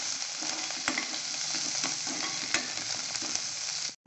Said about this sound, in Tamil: பட்டவத்தல் போட்டு வதக்கிட்டு கருவேப்பிலை இலைகளையும் போட்டுட்டு ஆனியன், இந்த ஆனியன் நல்லா கொஞ்சம் வதங்கட்டும்